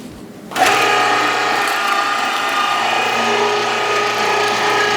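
An electric meat grinder starts abruptly and runs steadily, coarse-grinding meat for birria snack sticks, a loud close mechanical whir with a grinding, rattling texture and no talk.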